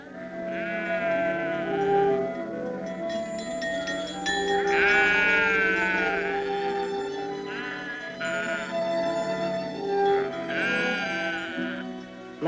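A flock of sheep bleating over and over, several overlapping wavering calls close by, loud and continuous with no talking.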